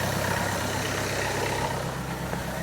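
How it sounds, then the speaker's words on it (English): A car engine idles steadily, a low continuous rumble with a faint high whine above it, even and close with no revving. "So the engine is on."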